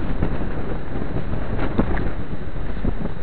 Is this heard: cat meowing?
no